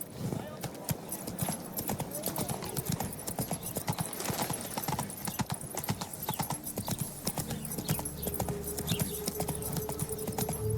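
Horse hooves clip-clop at a steady gallop in The Witcher 3: Wild Hunt, loud and continuous for the whole stretch, with a brief whinny, voices talking over it and game music underneath.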